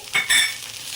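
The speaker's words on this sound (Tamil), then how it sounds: "நல்லா வெங்காயம் வதங்கட்டும்" Onions with a little rock salt being sautéed in a pan, a quick stir giving two soft scraping swishes over a steady low sizzle, with no voices.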